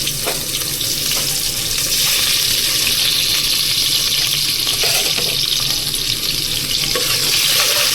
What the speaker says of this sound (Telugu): ఉల్లిపాయలు కొంచెం ఫ్రై చేసుకొని, ఉల్లిపాయలు కొంచెం ఫ్రై అవ్వాలండి